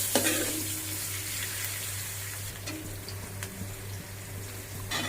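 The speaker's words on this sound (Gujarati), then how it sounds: "એની અંદર લીમડો નાખી દઉં એકદમ સુકાયેલો નથી તો એકદમ ફ્રેશ પણ નથી તો એને હલાવી દઉં" Curry leaves, neither fully dry nor fully fresh, fry in hot oil at the start of a pulao and are stirred. A steady moderate sizzle and hiss is heard over a low hum, with a few light stirring knocks.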